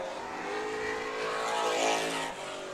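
Super stock race cars roar around Perris Auto Speedway in a loud, continuous engine drone that swells and shifts in pitch as the pack passes along the back straightaway.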